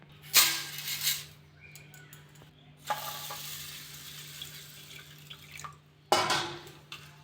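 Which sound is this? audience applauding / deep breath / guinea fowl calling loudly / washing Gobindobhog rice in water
washing Gobindobhog rice in water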